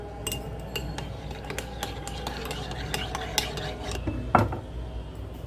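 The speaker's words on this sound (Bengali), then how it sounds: "এই বাদামগুলি এনেছি আমি একটু তেলে নিচ্ছি কারণ এগুলি ভালোভাবে ভাজা নাই" Peanuts are stirred in a little oil in a pan, with a steady soft frying hiss under repeated scraping and clinking taps of a utensil against the pan, close and fairly quiet.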